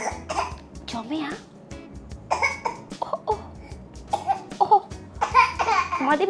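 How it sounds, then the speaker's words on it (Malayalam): A small child coughs repeatedly at home, short bursts mixed with giggles and an adult talking nearby. "അത്രയും ചുമച്ചാൽ മതി."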